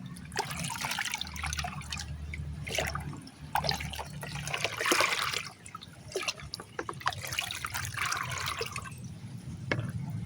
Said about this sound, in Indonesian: 1 liter kita campurkan ke air 10 liter. Oke, kemudian kita aduk dulu.